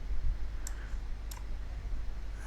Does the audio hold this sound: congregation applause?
no